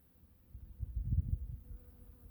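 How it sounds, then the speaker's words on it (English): A low, swelling buzz of honeybees near the listener, rising in the middle and fading again, with no voices. "All these honeybees. They're just going to town."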